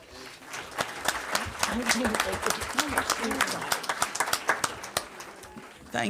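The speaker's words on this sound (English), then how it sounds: "y'all give them another round of applause as they walk" An audience at a school board meeting claps for students as they walk off, a busy spread of sharp individual claps with some louder close ones, and voices chatter underneath.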